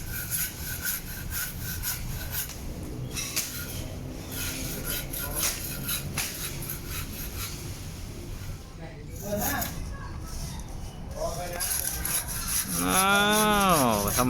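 A hand saw cuts through wood from a tree broken by a storm in a steady back-and-forth rasp, close and continuous, while people talk over it and a cow moos near the end.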